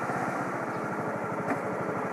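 A motorcycle engine idles steadily at close range while it is being parked, a continuous low rhythmic putter with no break.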